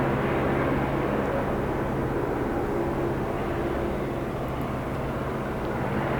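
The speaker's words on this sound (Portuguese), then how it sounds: "Esse é helicóptero. Faz mais barulho, né?" Helicopter landing close by, a steady loud broadband rotor and engine roar with a low hum holding throughout, no voices.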